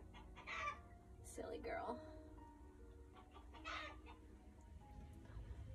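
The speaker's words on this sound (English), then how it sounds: "And she is clucking again." A hen clucks in short, repeated bursts close by indoors, with someone speaking briefly between the calls.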